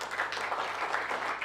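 An audience at a business talk applauds the anchor team, a steady, fairly faint wash of many hands clapping together for a moment.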